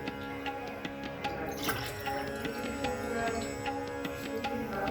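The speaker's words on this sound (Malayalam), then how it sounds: "രണ്ട് ഗ്ലാസ് വെള്ളം ഒഴിച്ചു." Two glasses of water are poured into a pan while making a home-remedy cough decoction, heard as a close, continuous splashing trickle with scattered drips and small clinks, without speech.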